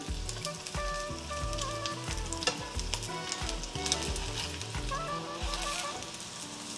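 Crab cakes fry in a pan with a constant close sizzle and crackle, punctuated by scraping and clinks as they are moved and turned, with no voices.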